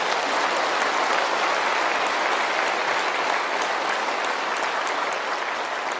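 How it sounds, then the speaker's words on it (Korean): A church congregation at a New Year revival service gives a loud, sustained round of applause, a dense, even wash of many hands clapping together throughout. "그 하나님 앞에 감사의 박수를 한번 드립시다."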